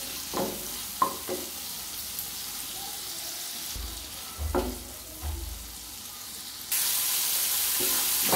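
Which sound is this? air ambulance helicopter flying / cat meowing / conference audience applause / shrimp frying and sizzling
shrimp frying and sizzling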